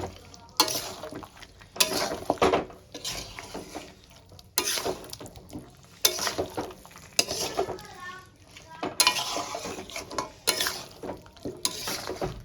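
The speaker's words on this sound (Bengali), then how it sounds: "কাজুটা দিয়ে আমি খুব সুন্দর করে কষিয়ে নিচ্ছি।" Chicken gravy with cashews sautéing in a pan, stirred with repeated scraping strokes against the metal in bursts, under a low sizzle with small clinks between strokes.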